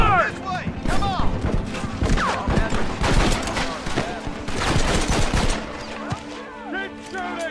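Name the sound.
gunfire in Red Dead Redemption video game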